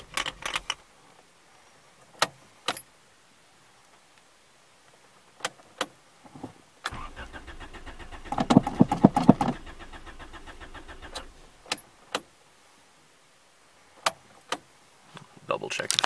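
A car's fuel pump primes and the engine cranks on a car whose battery had struggled to crank it the day before. Sharp clicks come first, then a few seconds of loud, rough cranking churn, then more scattered clicks.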